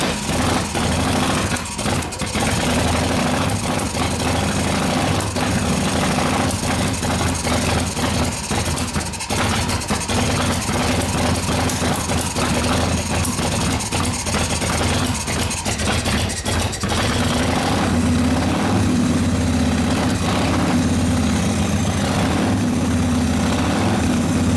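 A 1990 Harley-Davidson FXR with an 80ci Evo V-twin idles steadily and loudly nearby, a continuous low throbbing rumble with a slight shift in tone partway through and no talking.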